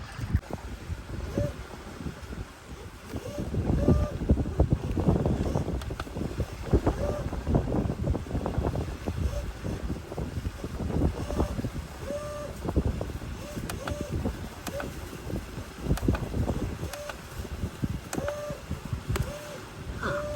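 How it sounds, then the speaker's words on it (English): A sailing catamaran runs under jib in strong wind, with constant gusty wind buffeting the microphone over water and hull noise, plus faint intermittent bird-like chirps. "We've sailed off under jib."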